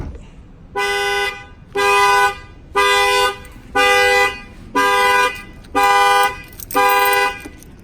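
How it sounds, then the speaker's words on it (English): The factory alarm on a 2019 GMC Sierra pickup sounds its horn in seven loud, evenly spaced honks, each about half a second long with short gaps between, close by. "we trigger the alarm"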